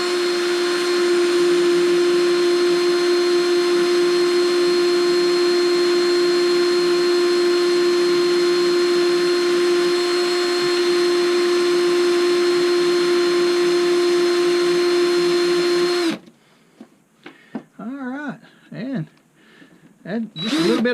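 A small turner motor whines steadily and loudly for about sixteen seconds as a spinning part is sanded, then cuts off abruptly, leaving quieter handling noises and a person talking.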